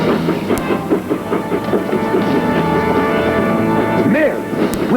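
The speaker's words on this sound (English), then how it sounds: "Il y a notre train qui arrive plein de monde." A train arrives with loud rhythmic clickety-clack of wheels and rolling rumble, a whine rising and falling near the end, and brief sharp bursts, all close and dominant.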